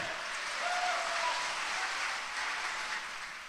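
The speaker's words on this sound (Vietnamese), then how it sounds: "chúng ta vỗ tay cảm ơn ban thờ phượng của chúng ta" A Vietnamese church congregation at a conference gathering applauds to thank the worship team, producing a soft, continuous wash of many hands clapping, heard from some distance and steady throughout without speech.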